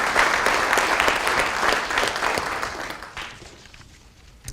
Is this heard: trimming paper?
no